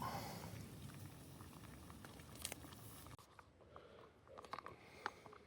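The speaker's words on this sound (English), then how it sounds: "this little cooker is doing the job. Look at that, boiling away, no problem at all." Sausage and beans boil on a 1960s picnic stove, giving a steady bubbling hiss with soft irregular pops and crackles, close and fairly quiet.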